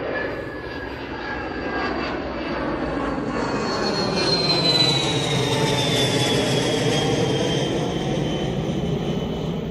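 Aircraft engines at Manchester Airport, a loud sustained roar with a high whine that sweeps downward as a plane passes nearby, continuous for about ten seconds with no talking.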